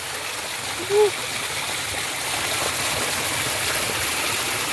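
A small waterfall rushes in a steady outdoor wash of flowing water, with a brief voice heard early on over the constant roar.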